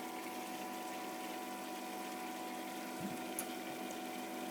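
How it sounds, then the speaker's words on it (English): DI pump on a model 900 running while priming, a steady mechanical hum with a bubbling liquid flow, continuous at an even level with a brief gurgle near the end, no voices. "So the pump's about to start. There it goes."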